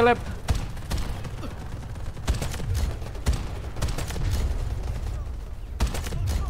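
Gunfire in a first-person shooter video game: several sharp shots and short bursts ring out over a continuous rumbling game background, fairly loud and close.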